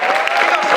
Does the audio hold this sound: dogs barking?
no